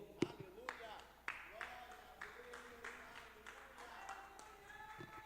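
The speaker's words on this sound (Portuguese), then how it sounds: "Você pode aplaudir ao Senhor?" A church congregation claps together during a worship service, a spread of soft, uneven hand claps at a distance, with a few sharper claps standing out and low murmuring beneath.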